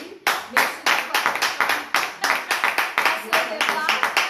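An audience applauds at the close of a French-language church discussion, about four seconds of dense, lively clapping from a group of people that stays loud and steady throughout.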